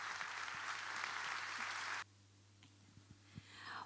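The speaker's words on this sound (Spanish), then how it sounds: "Y ahora le pido que entre todos pongamos bien en alto ese aplauso" Audience applause at the opening of a book fair in Chajarí, a dense steady clapping that fills the room for about two seconds, then stops abruptly, leaving faint scattered claps and quiet room noise.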